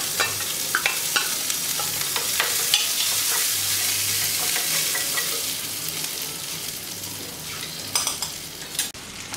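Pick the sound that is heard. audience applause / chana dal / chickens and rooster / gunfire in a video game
chana dal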